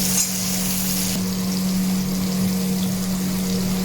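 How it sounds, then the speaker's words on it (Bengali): A steady sizzle of bitter gourd frying in a pan, with a constant low hum running underneath throughout. "উচ্ছেটাকে ভাজছি, অনেকটা হালকা ভাজা হয়ে গেছে।"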